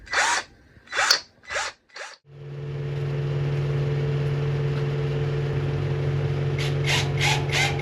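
A weak electric motor fitted on a used boat starts after a few short knocks and then runs on at a steady hum, with a constant tonal whine and a faint rattle near the end.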